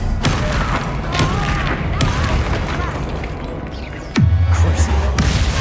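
The Expelliarmus spell in Hogwarts Legacy lands as a single heavy, booming burst late on, amid game voices and a dense background of clatter and ambience.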